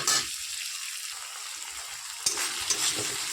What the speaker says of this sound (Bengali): কড়াইতে প্রথমে দিয়ে দিচ্ছি কাঁচা লঙ্কা আর পেঁয়াজটা ভালো করে মিশিয়ে নিই